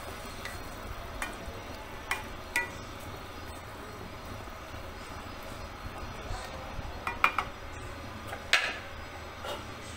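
Cluster beans fry over a medium flame in a pan, a low crackle running underneath while a utensil stirs and scrapes, scattered clinks and taps of metal against the pan popping up now and then.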